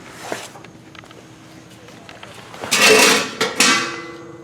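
An old, clean metal pot scrapes and clanks as it slides under a 1965 Chevrolet Impala SS to catch draining antifreeze. A few loud scraping bursts come near the end, after quieter rustling and a brief knock.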